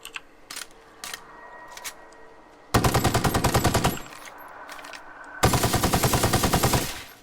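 An automatic gun from The Outer Worlds with no mod attached fires two sustained bursts of rapid, loud shots, each lasting about a second and a half, with a few scattered single clicks and taps before them.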